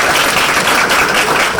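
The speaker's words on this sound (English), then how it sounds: "Give them a round of applause." An audience at a compensation plan presentation applauds, producing a loud, dense wash of clapping that stays steady and unbroken for under two seconds.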